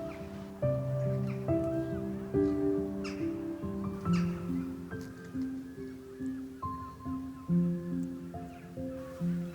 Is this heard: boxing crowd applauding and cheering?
no